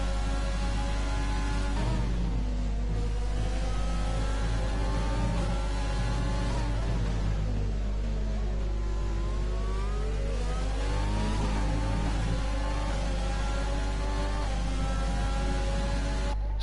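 Continuous engine roar of race cars on a track in a racing video game, a loud steady whine that rises and falls with revving and gear changes throughout, with no talk.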